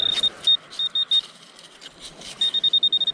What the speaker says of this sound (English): It definitely beeped, didn't it?